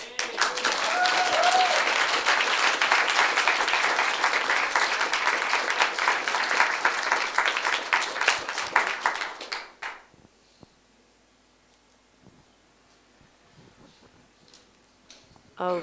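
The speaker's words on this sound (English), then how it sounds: "I would just like to suggest a quick round of applause for the fact that two Macedonian groups" Dense, steady applause from a conference audience at the 2019 Wikimedia CEE Meeting in Belgrade fills about nine seconds, then breaks off abruptly into a quiet room with a few faint scattered sounds.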